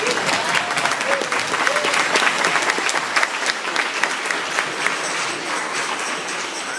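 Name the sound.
audience applauding student band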